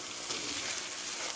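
Meat sauce with ketchup stir-frying in a pan, a steady close sizzle with soft scraping of stirring, continuous and even throughout with no voices.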